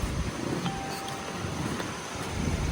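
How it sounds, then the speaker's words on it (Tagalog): Gusty wind buffets the microphone during a rainstorm in flooded Manila, a constant roaring rush with low rumble and a faint passing tone. "May ulan, may hangin pa."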